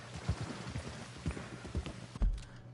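Horse hooves clip-clop at a steady walking pace on a road in the Red Dead video game, with distinct, fairly close, evenly spaced beats and no talking.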